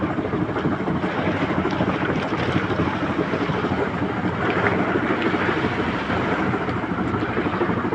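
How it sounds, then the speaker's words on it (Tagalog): Wind and heavy sea noise aboard a fishing boat out after skipjack and yellowfin tuna with a storm nearby, a steady loud broadband roar of gusts and waves that runs unbroken throughout. "Yung malalaki ang alon, mga Master."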